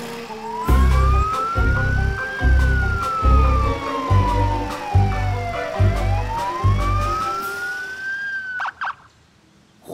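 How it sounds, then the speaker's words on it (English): A cartoon police car siren wails, rising and falling in a long sweep over a thumping rhythmic music beat, loud and up front before cutting off at the end. "Morphle, police car, take you to jail!"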